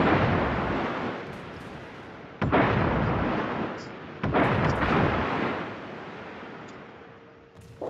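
Warship main guns booming in World of Warships, several heavy blasts with long rumbling decay, one salvo after another, loud and close.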